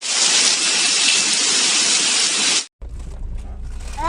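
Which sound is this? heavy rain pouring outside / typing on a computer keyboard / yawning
heavy rain pouring outside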